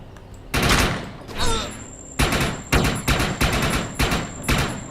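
Bursts of sniper and rifle fire in the shooter game Defiance, loud, close, sharp cracks arriving in a quick irregular series, with a brief voice heard early on.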